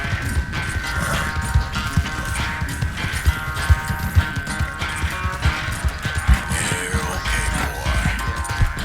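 Horse hooves gallop in Red Dead Redemption 2, a fast, loud, steady clip-clop of pounding hoofbeats that runs the whole time, with some rattling and scraping layered over it and no talking.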